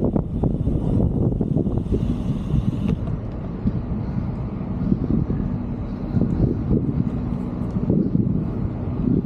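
Strong wind buffets the microphone outdoors on a tree-lined road, a loud, steady low rumble with gusty fluctuations throughout and no other clear sounds.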